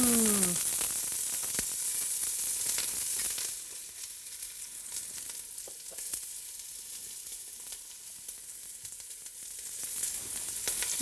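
Olive oil sizzles loudly in a hot pan with charred vegetables for black bean chili, a steady broadband hiss that starts strong, eases slightly midway, and carries on alone without talk.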